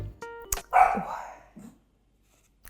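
A dog gives a single sharp bark close by, followed by a brief rustle and then quiet.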